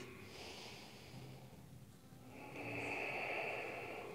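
Steady deep breathing during a full-body yoga practice, slow inhales and exhales drawn in and pushed out through the nose, close and fairly faint, with no talk over it.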